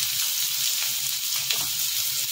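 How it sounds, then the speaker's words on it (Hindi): Chopped garlic and finely chopped onion sizzle and fry steadily in a hot pan, a continuous close crackling hiss with no talk over it. "लहसुन को भी हम हल्का सा भून लेंगे, डालेंगे बारीक कटा हुआ प्याज"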